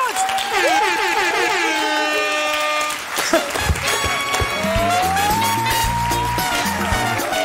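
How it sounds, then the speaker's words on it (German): Big applause from a live audience at a song-recognition show, a steady dense wash of clapping and cheering with horn-like blasts and music layered over it, loud throughout. "Riesen Applaus!"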